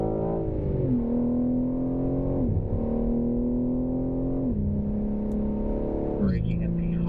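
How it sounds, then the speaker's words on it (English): A BMW M3 accelerating on the Circuit of the Americas track during a track day: a loud, close engine note rising in pitch through several gears, with distinct drops at each upshift, and a voice talking over it. "Alright, back onto the gas."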